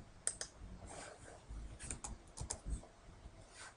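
Quiet clicks of someone typing on a computer keyboard, keystrokes coming in short irregular bursts with brief pauses, close and soft with no voices.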